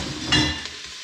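Carrots and celery sizzling in a pot with softened onions for a squash and sweet potato soup, a steady close frying hiss with a brief stir that swells then settles.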